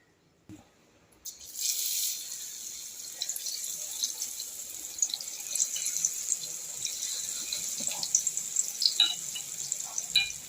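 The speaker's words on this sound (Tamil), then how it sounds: "ஒன்று ஒன்றா டிப் பண்ணி எண்ணெயில் போடுவோம்" Battered onion bajji fritters hit hot oil. A brief knock comes first, then a loud, bright sizzle bursts in and continues as a dense, crackling fry with scattered pops.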